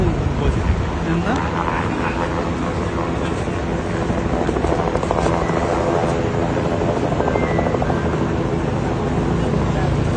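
A rescue helicopter flies over a flooded area, its rotor drone and engine rumble heavy and continuous throughout, with voices faintly mixed into the noise.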